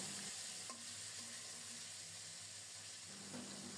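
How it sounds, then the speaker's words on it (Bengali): Rohu fish pieces coated in turmeric and salt fry in hot mustard oil, giving a steady close crackling sizzle throughout, with a brief clink near the start and some stirring. "হলুদ লবণ মাখানো রুই মাছের পিসগুলো এফিট ওফিট করে ভেজে নিচ্ছি"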